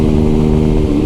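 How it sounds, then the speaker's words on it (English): A 125cc motorcycle fitted with an aftermarket exhaust drones steadily nearby, a loud, even engine tone with strong low harmonics held for about a second. "If it's a 125 and it has an aftermarket exhaust, she's going to be absolutely fucking obnoxious"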